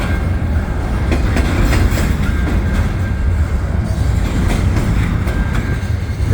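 CN stack and mixed freight trains meet in winter near St Henri, a loud continuous roar of passing railcars with rhythmic wheel clicks over rail joints close by.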